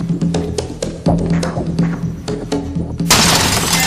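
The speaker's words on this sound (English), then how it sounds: "I'm going to take a poker and punch through this glass, and we're going to see which way it falls." A barbed iron poker punches through a bedroom window pane, followed by a sudden bright burst of shattering glass near the end, after a series of close knocks and thuds.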